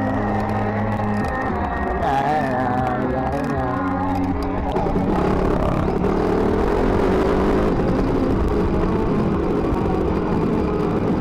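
A motorbike fitted with a 40-tooth rear sprocket is ridden on a test ride, its engine a loud, constant drone whose pitch rises and shifts as it accelerates, mixed with wind noise.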